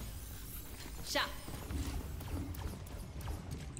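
Sombra's quick, light footsteps in Overwatch's Mirrorwatch mode make a faint series of soft ticks and taps amid game effects, with a person talking over them.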